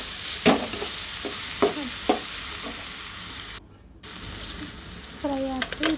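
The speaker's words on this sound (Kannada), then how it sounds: "ಈಗ ಇದನ್ನು ಸ್ವಲ್ಪ ಫ್ರೈ ಮಾಡ್ಕೊಳ್ಳುವ" Grated coconut with coriander and salt frying in a pan, a steady sizzle punctuated by scraping stirs and taps, a short dropout midway, and a brief voiced sound near the end.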